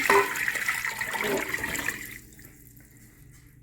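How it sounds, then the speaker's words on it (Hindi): About a litre of water poured into a pot of potatoes and chicken set to boil, a close, loud gushing splash that fades off after two seconds into quiet, with no talking. "और इसमें 1 लीटर पानी में ऐड करूँगी।"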